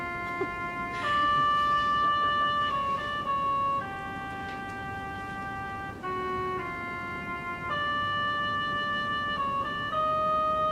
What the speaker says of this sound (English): So the oboe actually plays this melody